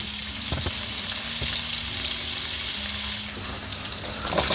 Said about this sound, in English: Cook this sausage up for about 4 to 5 minutes. Just want it to brown up a little bit.